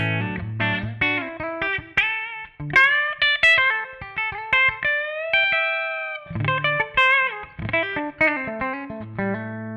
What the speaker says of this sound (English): Now I'm using the built-in reverb on the Kemper